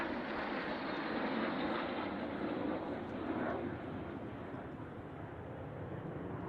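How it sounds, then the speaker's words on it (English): L-39 Albatross jets in a formation display at an air show roar as a broad, distant wash of jet noise under a commentator's voice. "And as you see, flying their L-39 Albatross jets."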